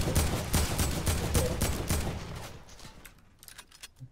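Rapid gunfire bursts from a Fortnite match, with a sniper rifle among the weapons: dense, loud shots for about two and a half seconds, then a few scattered, fainter reports.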